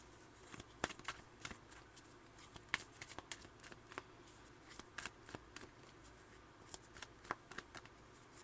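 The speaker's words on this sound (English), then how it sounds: "I'm going to go ahead and flip the cards around" Tarot cards are flipped and handled close up, giving crisp snapping flicks and light shuffling rustles at an irregular rhythm. The sounds are quiet overall, with no speech.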